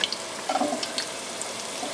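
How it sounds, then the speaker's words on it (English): Dominican empanadas pan-frying lightly in oil, giving a steady, close sizzle and crackle with small pops throughout. "we're just pan frying it lightly, just like these are wontons"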